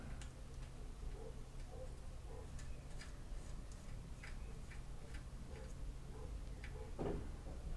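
Faint, irregular ticking clicks from a Lambretta scooter clutch assist cable return post being screwed in, light metallic ratchet-like taps spread over a low steady background hum.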